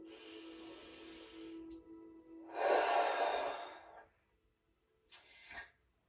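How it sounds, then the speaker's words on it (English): A person breathes deeply and slowly during a stretching session, with a long nasal inhale, then a louder, fuller exhale through the mouth, and a shorter breath after a pause, close and quiet. "Inhaling deeply through the nose"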